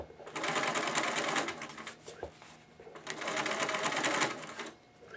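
Sewing machine stitching polyester fabric for a homemade tarp, two long loud bursts of rapid mechanical whirring separated by a brief pause, close up.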